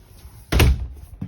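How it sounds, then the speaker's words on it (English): An RV door on a Forest River Flagstaff Super Lite camper is pushed shut with one loud, close thunk, followed by a fainter knock a moment later. "Okay, that door is closed."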